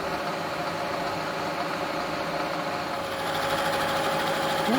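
A custom metal part for a rigid Harley Sportster build is skimmed down to thickness on a machine, giving a steady, continuous whirring and grinding drone throughout, loud and close, with no talk.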